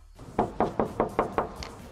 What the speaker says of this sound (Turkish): Biri kapıyı çalarsa, biri kapıya çıkarsa direkt böyle çıkıyoruz.